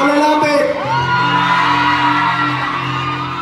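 Crowd at a concert finale shouting, whooping and cheering loudly and continuously, with sustained musical tones underneath.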